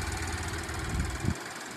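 A 2023 Chevrolet Trailblazer LS with a 1.2-liter double overhead cam turbocharged three-cylinder engine idles steadily up close, a low continuous rumble with a slight knock that drops away abruptly near the end.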